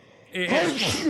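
A single sharp sneeze bursts out close and loud, abrupt and short after a brief quiet moment.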